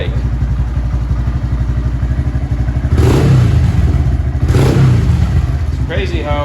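Honda Grom motorcycle engine, idling after sitting all winter, a loud steady close-up putter that swells with a couple of brief revs before settling again.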